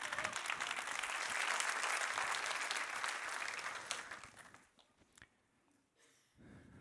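A church congregation bursts into loud, sustained applause for about four seconds, then it thins out into scattered claps and murmurs before a brief swell at the end.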